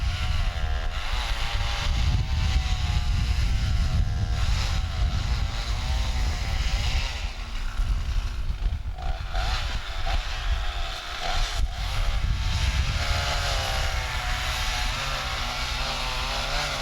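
A radio-controlled model airplane's engine drones steadily in flight, a continuous buzzing whine at moderate distance that holds for the whole stretch with slight wavering in pitch and no talking.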